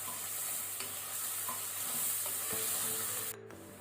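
Ginger garlic paste sizzles and fries in a pan over a medium to high flame for pepper mutton masala, a steady hiss with light stirring scrapes, cutting off abruptly near the end.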